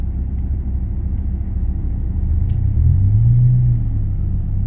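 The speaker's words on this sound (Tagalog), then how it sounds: "Yung lakas ng truck ay hindi nagbago." Truck engine rumbling nearby, a loud steady low-pitched drone that swells slightly midway as the engine works harder, then holds.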